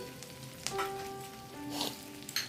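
Grated ginger, green chilli and curry leaves sizzle in a pan for sabudana upma, a soft crackling fry with a few sharp spits and stirring scrapes, fairly quiet and with no voices.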